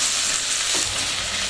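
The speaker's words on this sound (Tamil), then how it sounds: "நல்லா தக்காளி வதங்கிட்டுருக்கு" Tomatoes sautéing over low flame in a pan for chicken biryani, a steady broadband sizzle and frying hiss throughout, close and even, with a faint stir scrape midway.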